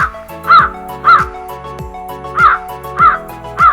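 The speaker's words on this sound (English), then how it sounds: "what is the sound of crow?" A crow caws in loud, close, harsh calls, five of them spaced roughly half a second apart in a regular rhythm, heard by itself without talk.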